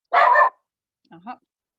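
A dog barks close to the microphone in a home during an online meeting: one loud sustained bark, then after a pause a softer pair of short yips and whines.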